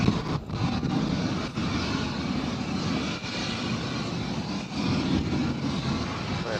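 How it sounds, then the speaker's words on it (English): A Southwest Boeing 737-700 jet arriving from Denver rumbles steadily from a distance, a continuous broadband engine roar that holds level throughout without any voices. "our next arrival is going to be Southwest Flight 5883 coming in from Denver and a Boeing 737-700 coming in from the Mile High City"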